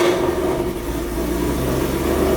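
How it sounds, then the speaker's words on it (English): A Ford Mustang engine running on E85 fuel idles after a cold start, a steady, continuous low rumble held close and loud for the whole stretch, with no voices over it. "cold start on E85 sounds awesome. Idles down, idles up."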